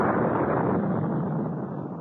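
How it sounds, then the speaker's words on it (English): An explosion sound effect from a radio drama rumbles as a dense, loud roar that starts at full force and slowly fades over about two seconds. "After the explosion, the darkness descended again, and there was silence."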